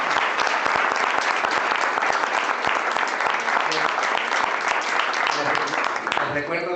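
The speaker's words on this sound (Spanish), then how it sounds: "le brindamos un gran aplauso" A lecture hall audience breaks into loud, dense applause after a conference talk, sustained for several seconds before tapering off at the end.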